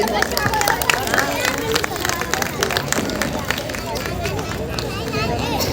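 Applause from an audience welcoming a guest at a Women's Day event, steady dense clapping mixed with crowd hubbub and voices, loud and sustained throughout.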